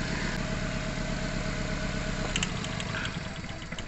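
A 2015 Chevrolet Spark with a manual gearbox idles roughly and nearly stalls after one cylinder's connection is pulled. Its close, loud engine rumble throbs unevenly, then sags and weakens toward the end.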